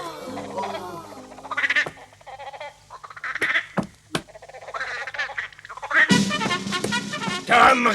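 A frog croaks in an animated scene, loud and close, in several irregular bursts mixed with quacking, duck-like calls, with short gaps of quiet between them.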